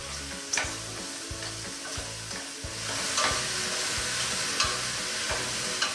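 Mushrooms fry in a pan with a continuous close sizzle while being stirred, with occasional scraping knocks over a steady rhythmic low pulse.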